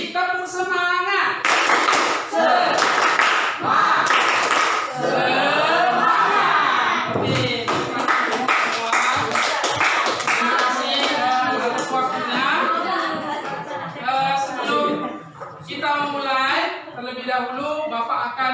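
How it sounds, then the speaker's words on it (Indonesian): Repeated round of the tepuk semangat clapping chant in an Indonesian classroom: a group of children claps in loud, patterned bursts while chanting along, the claps and voices overlapping close up. "Sekali lagi, tepuk semangat."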